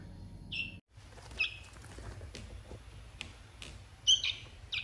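A tame fledgling chick gives a few short, high chirps in brief scattered bursts, fairly close and quiet, against a soft indoor background with a brief dropout.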